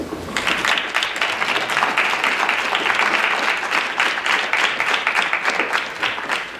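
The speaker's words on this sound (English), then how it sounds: "Kids, at this time, I think we need to give them a round of applause." A crowd at a high school honor society ceremony bursts into steady, loud applause, many hands clapping together for several seconds before it begins to thin slightly.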